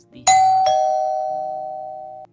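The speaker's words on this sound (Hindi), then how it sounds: "तभी दरवाजे की घंटी बजती है।" A two-tone doorbell chime rings once inside a home, a sharp strike followed by a second tone that holds and slowly fades over about two seconds, loud and clear with no voices.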